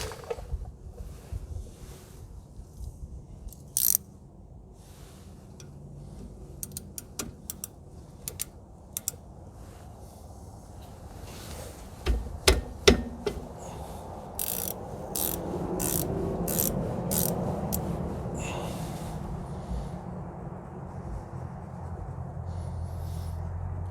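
Wrench loosening a brake line from the rear brake caliper of a 2001 Expedition, giving scattered close clicks and ratcheting ticks, then a denser run of sharp metallic clicks over a rising hiss.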